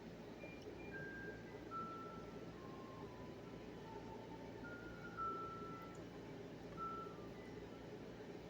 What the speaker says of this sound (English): I hear an ice cream truck.